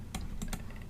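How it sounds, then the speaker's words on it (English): Keys on a computer keyboard are tapped in a brief, quick cluster of a few crisp clicks, close and clear, with no voices. "And then we're going to add a text view in it. And we're going to type in"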